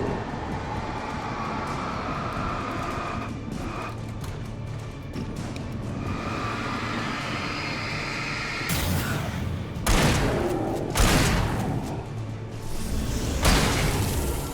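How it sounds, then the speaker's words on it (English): A flashbang grenade bursts in Alan Wake, a loud whooshing blast that flares bright and sharp, followed by further heavy booming impacts over a steady rumbling game backdrop. "I almost didn't get that flashbang off"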